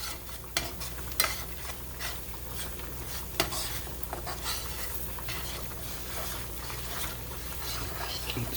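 Flour is stirred in a pan for gravy, a soft scraping and stirring over a low sizzle, with a few sharp taps of the utensil against the pan, quiet and close.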